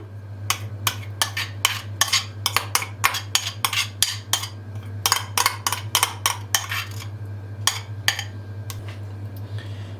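Butter and sugar whisked in a bowl for apricot hazelnut cookies, a quick run of sharp metallic clinks and taps of the whisk against the bowl, steady and close over a low hum.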